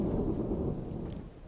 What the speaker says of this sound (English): the rain that comes through here, they have made it immersive